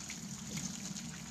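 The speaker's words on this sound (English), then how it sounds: "I'll pour the water." Water poured from a pan into a colander at a kitchen sink, a short soft gushing trickle, close and steady, heard alone.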